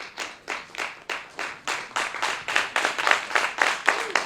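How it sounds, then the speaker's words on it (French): Rhythmic clapping rings out at a theology diploma ceremony as a graduate receives a diploma, steady beats that swell louder and more unified toward the end. "Son diplôme lui a ensuite été remis sous les applaudissements"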